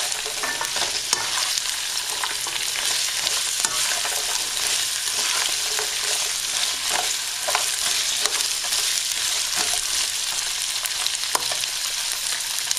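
Green beans and other vegetables sizzle steadily in a frying pan while a utensil stirs them, scraping and clicking at irregular moments over a dense continuous crackle, close and fairly loud, with no talking.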